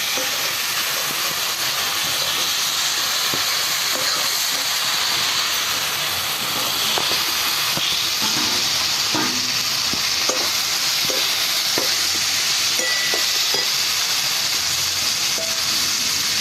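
Potatoes and taro (kochu) frying in spice paste for a kochra dish, a loud continuous hissing sizzle with intermittent scraping and clatter from stirring, no speech.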